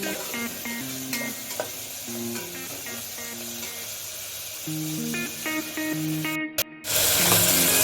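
Onion frying with a little salt in a pan while cooking a cluster bean and potato dry vegetable; a steady sizzle continues throughout, mixed with tonal background music, and briefly drops out near the end before returning louder.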